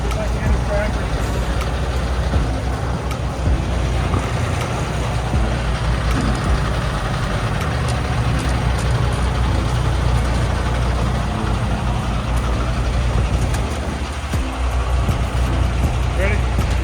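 A tractor engine runs steadily during an ice storm, a loud continuous low rumble with a heavy idling drone that persists throughout, faint speech mixed in beneath it.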